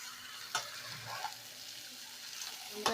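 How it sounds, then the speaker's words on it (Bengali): Pomfret fish pieces sizzle and fry in a little oil in a pan, a soft steady crackle with a few sharp clicks of stirring. "আমি আরও 2 চামচের মতন তেল একটু দিয়ে দেব। দিয়ে মাছগুলোকে একটু ভালো করে কষিয়ে নেব।"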